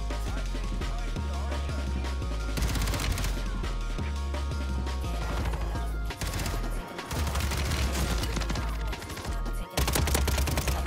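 Video game gunfire blends into a dense, loud wall of game sound, with rapid automatic shots and bursts running almost continuously over music and effects, with only brief dips, and no talking.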